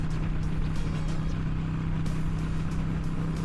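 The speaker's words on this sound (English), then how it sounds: "Despite the violent shaking of the Harley Davidson 883 engine, I still wanted to share this special moment with you guys." A Harley-Davidson 883 motorcycle engine drones at steady speed on a street and highway ride, a loud, constant low throbbing hum mixed with wind rush, with no break or change in pitch.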